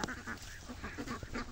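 Ducks quacking near their duck house on a farm where goats are kept, a continuous chorus of nasal calls close by, with no talking.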